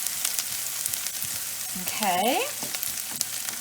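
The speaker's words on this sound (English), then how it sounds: "My oil was pretty hot, so like some of my shallots are already browning" Shallots fry in hot oil, giving a steady close sizzle and crackle, with a brief spoken word and a short rising vocal sound partway through.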